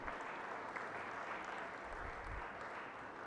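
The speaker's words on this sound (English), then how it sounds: "Please give a loud applause to all these people." Steady applause from an event audience after thanks to organisers and staff, a dense even patter of clapping filling the whole stretch at moderate level with no talk over it.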